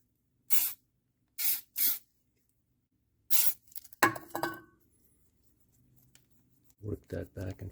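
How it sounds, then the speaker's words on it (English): Aerosol spray can hissing onto a chrome and steel part of a 1964 Mercury Comet Caliente, four short close bursts followed by clinking handling noises and a brief rapid spray run at the end. "spray some right down inside there"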